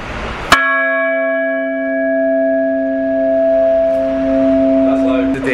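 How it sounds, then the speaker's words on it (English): The old Netherbow gate bell at John Knox House in Edinburgh is struck once, very loud and close, then rings on in a long, steady, pure tone. "And I'm getting to ring the bell."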